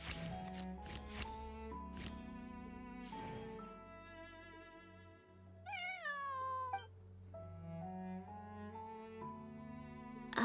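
A cat in Genshin Impact meows once with a rising, clear call partway through, set against layered game music and sparkling effect tones, with no talk.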